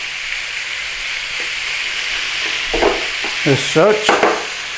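Beef trimmings searing in a hot pan give a steady hiss of sizzling throughout, close and moderately loud, while someone speaks briefly near the end.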